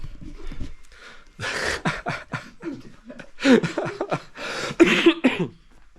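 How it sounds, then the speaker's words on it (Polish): A person coughs repeatedly in harsh, close bursts, with short breathy pauses between fits. "mam nadzieję, że ten kaszel to nie suchoty"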